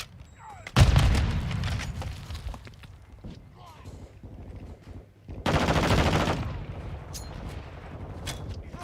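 Automatic gunfire from Call of Duty Modern Warfare II, with a loud burst near the start and a dense sustained volley later, amid a busy battle mix with voice callouts.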